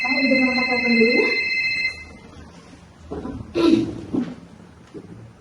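A telephone rings with a tonal, repeated electronic trill during a school drama performance, then stops, and people talk afterward.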